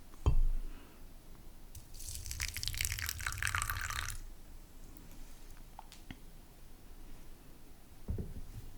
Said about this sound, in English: Now to add just a little bit of water.